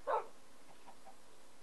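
A single short woof from a pet dog in the Minecraft video game, a brief, moderately loud bark at the start, followed by near quiet with no talking.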